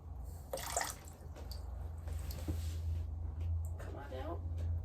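Tap water runs in a camper van with a leaky hot water valve, a steady broadband rush with splashy bursts, while a person talks over it nearby.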